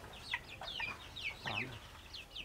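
Two-week-old Pradu Hang Dam Chiang Mai chicks on a farm flock of about a hundred birds chirp in faint, scattered peeps with a soft low murmur in the background.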